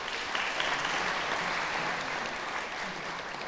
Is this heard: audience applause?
yes